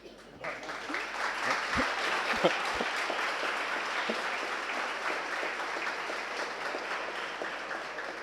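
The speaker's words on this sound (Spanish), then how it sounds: "Pueden aplaudir" Audience applause for author Alberto Tricarico at a book presentation on the films of Damián Szifron, a sustained dense clapping from a seated crowd that starts abruptly and carries on steadily.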